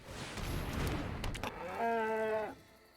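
A cartoonish cow moo sounds for the Bartered Cow card in the digital Magic: The Gathering game, a short tonal call preceded by a burst of noisy game effects, with no voices.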